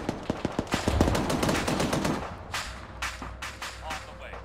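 Heavy automatic gunfire in the military game Arma 3: loud rapid bursts at first, then scattered, more distant shots, with voices talking over the battle.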